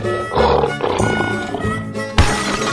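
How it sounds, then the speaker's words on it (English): A deep, rumbling lion roar rises and rolls on for a couple of seconds, loud and close, with a second burst near the end. "Lion."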